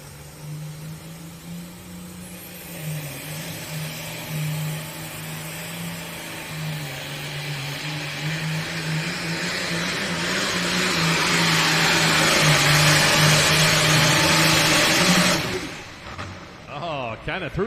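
A pulling tractor's heavy engine drones steadily and builds to a louder roar as it strains at a farm pulling competition, then cuts off abruptly near the end, with commentary over it.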